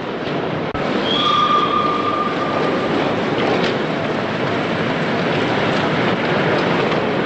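A train stands at a railway platform in Newcastle, with a steady loud rumble of engine and carriages, a short squeal of wheels near the start, and no talk.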